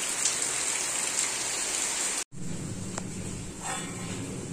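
Heavy torrential rain pours at night in a steady, dense roar, a brief cut midway, then continuing with faint dripping and a distant dog bark or two.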